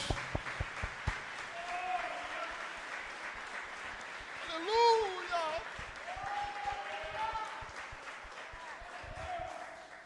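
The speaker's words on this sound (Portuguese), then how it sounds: "Você pode aplaudir o Senhor bem forte" Congregation applauding in a Brazilian church service, continuous clapping from many people under a voice calling out and sustained singing or shouting, with a louder swell midway.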